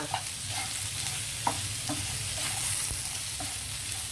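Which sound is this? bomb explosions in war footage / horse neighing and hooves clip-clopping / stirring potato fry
stirring potato fry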